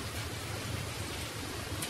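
Heavy rain pours down steadily on a garden of potted flowers in Japan, a dense, even hiss with a low rumbling patter, close and constant throughout with no voices.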